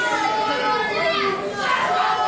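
Pro wrestling crowd at an ETWA Champions of Wrestling show heckling a wrestler, a dense wash of shouting and jeering voices, loud and continuous throughout.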